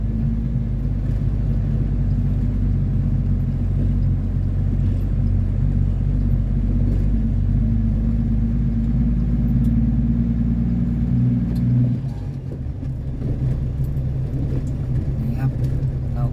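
A big, heavy truck engine roars loudly with a deep, sustained rumble while driving slowly, shifting tone near the end, with talking over it.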